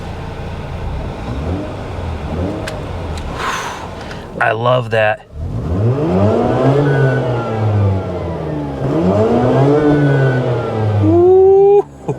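A 2004 Mazda RX8 with a six-speed manual and a check engine light fires up and revs in rising sweeps, loud and close, while someone talks over it.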